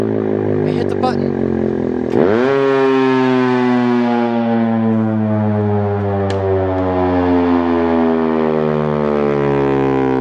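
A motorized siren starts at the press of its button, kicking in with a sharp jolt and then winding slowly down in pitch with a rich, moaning wail that grows deeper over ten seconds, loud and continuous.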